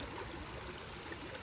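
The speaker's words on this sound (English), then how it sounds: "The water sounds lovely." A stream flows steadily near a lake, a continuous close babble and trickle of water with no voices over it.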